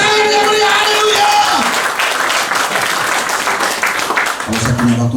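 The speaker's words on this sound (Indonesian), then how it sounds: "Tepuk tangan yang meriah, haleluya." A church congregation at an Indonesian Sunday worship service bursts into loud, sustained applause. A brief sung or spoken tone rings out at the very start, and a voice carries faintly over the clapping.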